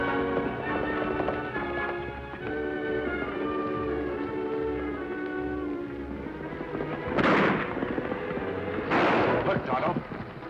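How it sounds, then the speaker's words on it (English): Two or three horses gallop fast, the hoofbeats building into loud rushing bursts near the end, under a dramatic music score with no talking. "Me hear 2 or 3 horses running fast."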